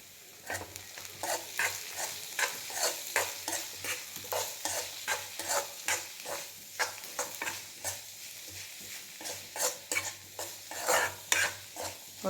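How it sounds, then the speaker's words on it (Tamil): A utensil scrapes and stirs rhythmically through a frying pan of mutton spleen fry with onions and mutton masala, repeated strokes over a soft sizzle, close and fairly quiet, with no talking. "இப்போ நல்லா மிக்ஸ் பண்ணி விடலாம்."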